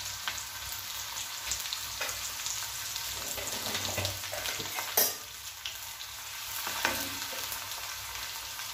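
Crushed garlic and small onions frying in coconut oil give a steady, close sizzle with a few clinks of stirring, and no talk over it.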